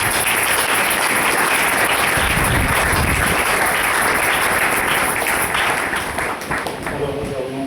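A church congregation claps and cheers in loud, continuous applause filling the room, a dense roar of hands and voices that holds steady throughout.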